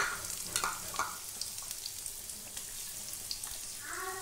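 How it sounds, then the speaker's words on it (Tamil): Cubed potatoes and roasted garlic fry in a hot pan for a South Indian avarakkai poriyal, giving a steady close sizzle broken by occasional spatula scrapes and pops. "இப்போ இதை நல்லா ஃப்ரை பண்ணிக்கோங்க."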